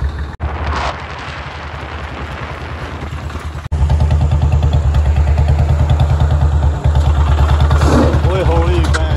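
A modified Swaraj 855 tractor engine running on a road, loud and close with a rapid rumbling exhaust beat that grows heavier partway through, with a voice heard briefly over it.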